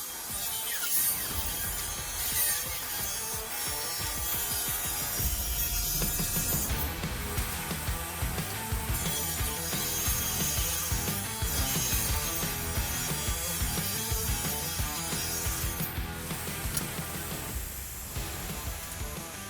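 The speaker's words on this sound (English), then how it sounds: "I'll run it through the saw, and I will create 2 pieces of spline that I'll use in my glue up" Saw ripping a wooden board into quarter-inch spline pieces, a continuous rough grinding, rasping cut that runs steadily and fairly close for nearly twenty seconds.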